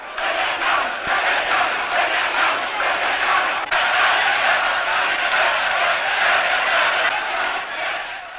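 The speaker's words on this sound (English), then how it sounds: "They are cheering this man." A large crowd cheers and roars in the streets of Cairo, a dense, continuous wash of distant voices and shouts that holds steady throughout.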